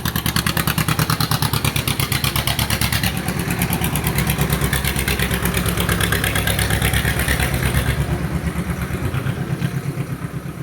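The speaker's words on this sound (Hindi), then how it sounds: "ट्रैक्टर चला रहा कि बुलेट समझ में नहीं आता है" Engine of a tractor or Bullet motorcycle running outside, a loud steady thumping chug with rapid regular pulses that continues throughout.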